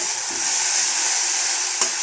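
Masala paste for a rohu fish curry hits hot oil and sizzles in a loud, steady hiss, close up, with one brief knock near the end.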